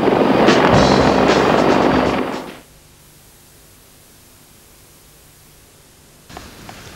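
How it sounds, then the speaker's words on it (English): Marine Corps CH-53 and H-46 helicopters make a loud, broad rotor and turbine roar for about two and a half seconds, then cut off to near silence, with a faint noise returning at the end. "We're getting 53s from the Marine Corps and H-46s from the Marine Corps as well."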